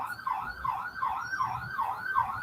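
An ambulance siren in Colombia cycles in a rapid, repeating yelp, about six sweeps, steady and moderately loud over a low traffic rumble.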